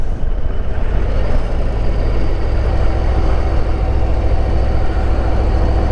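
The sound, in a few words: Harley-Davidson Road Glide ST 117 engine with stock exhaust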